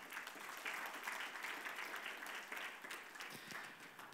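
Steady applause from an audience at a charity thank-you ceremony for foundation sponsors, moderately distant and continuous for several seconds with no speech.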